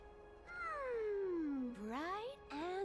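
Trixie Kitty, a cat in Honkai: Star Rail, gives a drawn-out, falling meow and then two shorter rising mews close and clear against a quiet game-music bed.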